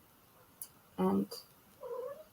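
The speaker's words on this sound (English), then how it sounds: "If you can hear some strange noises, that is my cat." A pet cat meows indoors, a loud harmonic yowl midway followed by a softer, shorter meow, with a brief spoken word just before.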